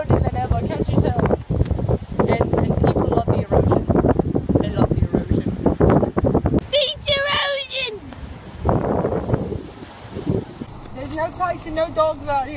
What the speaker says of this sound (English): It is so windy out here